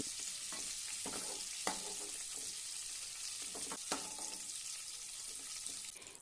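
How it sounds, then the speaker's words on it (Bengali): Cauliflower florets frying on high flame in hot oil, a steady close sizzle with occasional scrapes and clatters as the pieces are stirred, ending in a sharper knock. "হাই ফ্লেমে ফুলকপিগুলোকে ভালোভাবে নাড়াচাড়া করে লাল করে ভেজে নিয়েছি"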